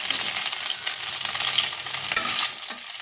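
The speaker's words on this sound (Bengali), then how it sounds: "আর এই কড়ার মধ্যে আমি দিয়ে দেবো ফোড়ন, শুকনো লঙ্কা, তেজপাতা, আর দেবো একটু গোটা গরম মশলা।" Dry red chillies, bay leaves and whole garam masala frying in hot oil in a wok, a dense continuous sizzle and crackle with occasional stirring scrapes, close and loud, no voices.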